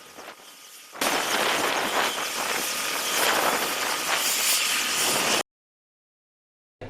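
An air force helicopter flying a flood and landslide rescue near Matale sends out a loud, steady rotor and engine roar for several seconds, then cuts off abruptly into silence, with no voices.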